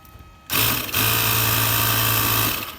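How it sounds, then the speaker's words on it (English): A small air compressor blows a steady, loud hiss of air through a needle into a small-engine carburetor jet, starting abruptly at about half a second and holding with a low hum beneath until it tapers off near the end. "Force air through, and then if there's anything lodged in there, it'll blow it out"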